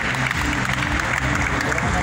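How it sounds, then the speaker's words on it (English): Applause from the audience at a restaurant conclave in Hyderabad, honoring local legends, with dense, steady clapping filling the room over a steady musical bed. "A big hand of applause to our legends of Hyderabad."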